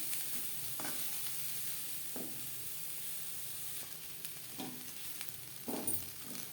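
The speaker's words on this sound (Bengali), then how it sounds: "নারকেলের সাথে মিডিয়াম টু লো ফ্লেমে আরও 3-4 মিনিট নাড়াচাড়া করে নেব" Yardlong beans and grated coconut frying over a medium-to-low flame give off a soft, quiet sizzle, with occasional gentle scrapes as they are stirred in the pan.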